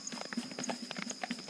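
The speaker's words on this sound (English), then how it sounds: "He heard a horse galloping away down the highway." A horse gallops in quick, regular clip-clop hoofbeats, fairly close and moderately loud, with no talk over it.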